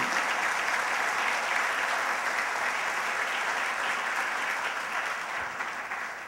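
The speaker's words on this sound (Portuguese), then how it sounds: "aplauda Ele por isso" A church congregation claps at a service, a sustained burst of dense, even applause that holds steady and eases off slightly at the end.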